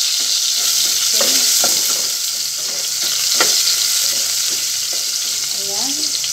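Chopped onion sizzles loudly in a hot pan as the base for a home-cooked chicken curry, a constant close frying hiss with soft stirring scrapes and clinks of the spoon throughout.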